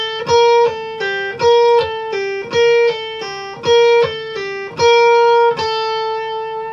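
Single-note electric guitar lick, played with pinky-to-ring-to-forefinger pull-offs, repeating in a steady rhythmic phrase of plucked notes with sustained tones, clear and close with no talking.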